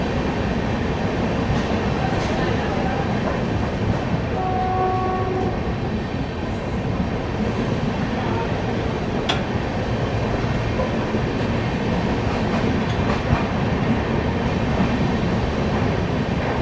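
The Shiv Ganga Superfast Express passenger train rumbles along steadily between Banaras and New Delhi, with continuous wheel and track noise close by and a brief horn-like tone partway through.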